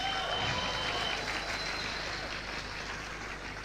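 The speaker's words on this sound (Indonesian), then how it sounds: "Kita beri aplaus yang paling meriah buat 3 Diamond Gold Lion" Sustained audience applause from a crowd honouring an award-level business achiever at a motivational seminar, steady and full throughout, fading slightly toward the end with no talk over it.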